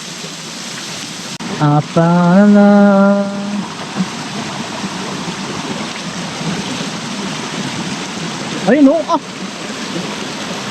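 Water splashes and rushes steadily down a mountain stream near a waterfall, a loud, continuous spray heard up close, with voices calling out and exclaiming over it.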